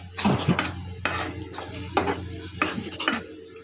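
Spices and tomato are stirred in hot oil in a pan for Bengali prawn malai curry, giving repeated loud scraping and clinking strokes of a utensil against metal over a low hum, with no talk.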